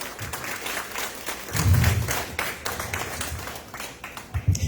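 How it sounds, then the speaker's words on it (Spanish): A church congregation applauds during a sermon, uneven clapping with a few heavier thumps and taps, moderately loud and continuous for several seconds. "Denle un aplauso al Señor, mis hermanos."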